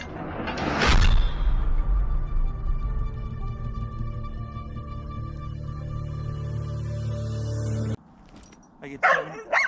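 A dog gives one sharp bark near the start, followed by a long sustained droning tone that holds steady and then cuts off, with a few brief noisy bursts at the end.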